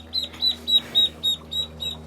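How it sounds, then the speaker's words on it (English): Baby ducks and chicks on a backyard farm peep in a quick, regular series of high, thin chirps, close by over a low background hum. "We just bought baby chickens and baby ducks for the farm,"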